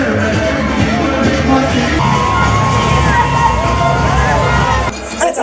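Dense crowd at the Dominican parade in the Bronx, sustained loud cheering, whooping and shouting voices layered together, with a whistle-like tone rising above the din partway through.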